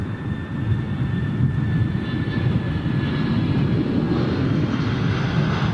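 A Boeing 777 jet airliner taxis nearby, its engines producing a steady, continuous broadband rumble with a faint high whine running through, no talking over it.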